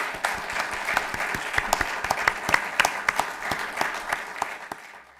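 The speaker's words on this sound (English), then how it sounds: "And let's have a round of applause for our panelists." Steady clapping from a modest crowd after a public panel on LGBTQ veterans and the military, with individual hand claps distinct, then thinning out near the end.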